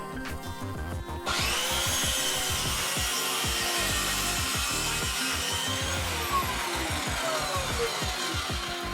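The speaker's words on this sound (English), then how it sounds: "I had to use my circular saw to cut the actual pieces out." A circular saw cuts wooden pieces for workshop storage shelves, spinning up abruptly and then making a steady, loud, close whine with rhythmic rasping as the blade moves through the wood.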